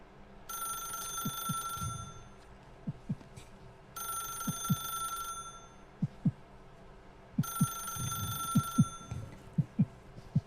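A telephone rings in the video game The Stanley Parable Ultra Deluxe, three repeated bursts of bright electronic ringing over a low soft pulsing background, clear and alone without talk.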